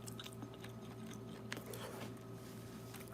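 Braised pork ribs (galbi-jjim) being chewed close up, with soft, faint mouth sounds and small crunches over a steady low background hum, no talking.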